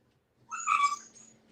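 A house cat gives a single short meow, close and clear, over a faint indoor background.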